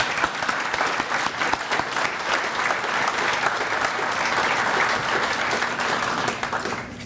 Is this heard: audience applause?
yes